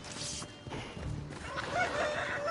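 Chickens cluck and a rooster crows in Assassin's Creed Odyssey, the fowl sounds mixed into a busy game soundscape with thumps and ambient noise, fairly close and steady throughout.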